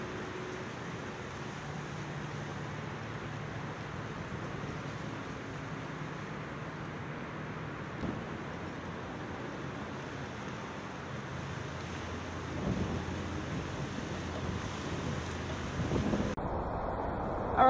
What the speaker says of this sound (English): we've got some pretty decent wind today